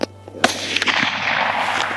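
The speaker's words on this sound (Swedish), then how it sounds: "Kommer skott." A single sharp rifle shot cracks out close by at a fallow deer during a stalking hunt, a loud broadband burst followed by a lingering rumbling echo, with a fainter click before and another sharp transient after.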